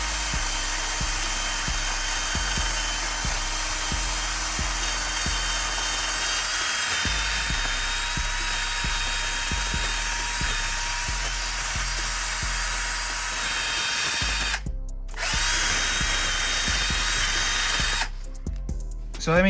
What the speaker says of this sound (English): So let's just try it on the drill real quick.